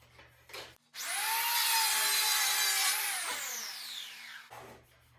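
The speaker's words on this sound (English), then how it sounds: "So now that we've planed it up, I guess I can take those off." A plane shaves down a rattan sword blade in one long, loud, sustained pass of about three seconds that winds down at the end, heard alone with no talk.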